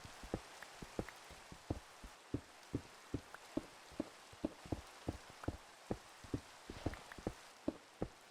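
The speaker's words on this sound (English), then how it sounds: "so it started raining" Rain falls in the video game Minecraft as a faint, steady patter broken by regular soft drip-like taps, heard alone with no talking.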